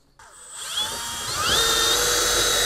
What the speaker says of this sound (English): We'll get that big drill bit you just had.